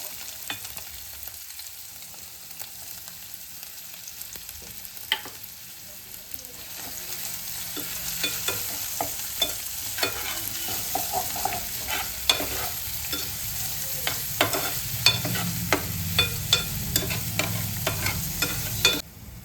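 Chopped onions sizzling in hot oil in a pan for dum aloo, a steady frying hiss that builds after a quiet start, punctuated by repeated scraping clicks of a spoon stirring, with no talking.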